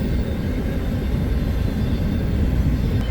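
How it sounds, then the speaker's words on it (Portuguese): A train rolls past close beside a campsite where food is being cooked on a Route 66 road trip, a loud, steady low rumble with constant rail noise filling the whole stretch and no voices. "E esse já é o 6º trem que passa aqui do lado"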